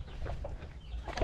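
Laying hens on a small farm clucking in a few soft, brief calls close by, over a low steady background rumble.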